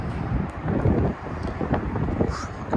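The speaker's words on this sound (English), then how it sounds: "A little bit breezy." Gusty wind buffets the microphone on a high-rise apartment balcony in Southbank, a steady low roar with rising and falling surges throughout and no clear speech.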